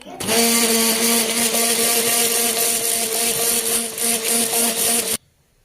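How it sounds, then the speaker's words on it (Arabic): An electric mixer kneads bread dough for homemade Algerian house bread, a loud, steady motor whir that runs unbroken for about five seconds and then cuts off abruptly. "ومن بعد نديرو بالميكسور"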